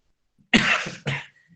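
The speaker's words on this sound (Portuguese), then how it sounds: "Desculpa aí, ainda estou com um pouquinho de tosse" A man coughs twice in quick succession, close and clear, in an otherwise quiet room during a talk.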